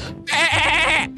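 A goat in the Garry's Mod video game lets out one loud, wavering bleat lasting under a second, close and clear.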